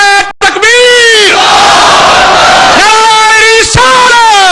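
A large crowd at a religious rally answers a leader with loud, massed slogan chants in two long bursts, the roar rising together with a brief lull between, near and very loud.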